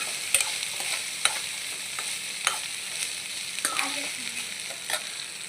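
Okra frying in oil in a home kitchen pan with a pinch of salt added, a steady soft sizzle broken by a few sharp spoon scrapes and clinks while stirring, close and moderately quiet with no talking.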